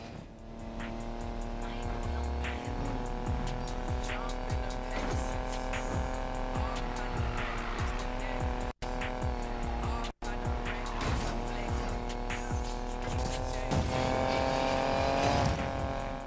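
Racing-game car engine in Need for Speed Payback revs steadily and loudly throughout, with tires squealing through drifts in repeated smeared skids, close and continuous.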